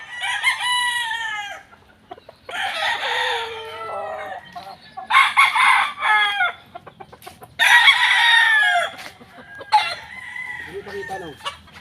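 Gamefowl roosters, Raptor straight-comb birds on a Pampanga game farm, crow in several long, loud bursts that overlap and follow one after another, with short clucks and farmyard noise between the calls.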